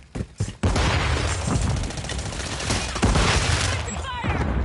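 Explosion and sustained gunfire in the video game Modern Warfare 3 after a Semtex grenade goes off, a dense, loud fusillade of shots with booming blasts running continuously under occasional speech.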